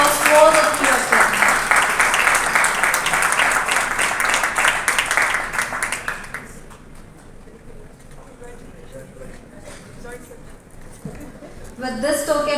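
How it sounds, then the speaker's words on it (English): Audience applause for three ECMO doctors at a ceremony, a dense, loud clapping that lasts about six seconds and then stops, leaving a quieter room with faint voices before more sound returns at the end. "Please give a big round of applause to all the three of them."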